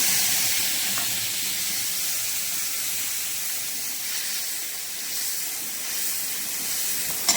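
Spice mix hitting hot oil in a kadai, giving a steady, moderately loud sizzle and hiss that holds evenly throughout with no talking.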